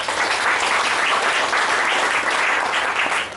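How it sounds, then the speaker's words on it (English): Steady, loud clapping from a crowd, sustained throughout without pause. "Give yourself a big round of applause."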